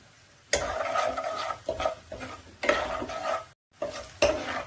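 Onion with turmeric and salt is stirred in a hot pan for poha, giving bursts of sizzling and scraping spoon strokes that stop briefly between stirs, close and fairly loud, with no talking.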